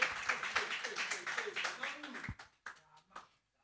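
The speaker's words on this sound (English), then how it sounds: "A big round of applause." Audience applause at a Kenyan youth panel conversation in Kiambu: dense clapping fills the first two seconds, then thins into a few scattered claps as it fades, with a voice speaking over it.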